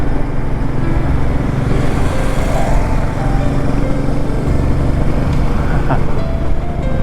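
Steady motorbike engine drone on a smooth ride at around 80, a bike about five years old with 9,743 km covered, loud and continuous with wind rush and no talk.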